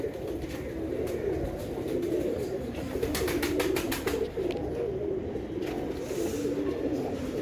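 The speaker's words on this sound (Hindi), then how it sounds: "ये कुछ ऊपर बैठे हुए हैं कबूतर।" Pigeons perched up high coo softly and steadily in a low murmur, with a brief burst of flapping or rustling midway and no one talking.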